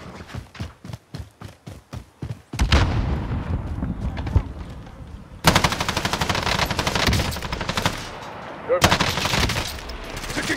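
Gunfire in the video game Warzone Pacific: a rapid evenly spaced burst of single loud shots, then dense sustained automatic fire with overlapping bursts, close and harsh, with players' voices calling out faintly beneath.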